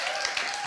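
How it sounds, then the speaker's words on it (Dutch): An audience claps at an award ceremony in Amsterdam, a short burst of dense applause heard briefly and fairly faint. "hartelijk applaus voor Patrick Dorder."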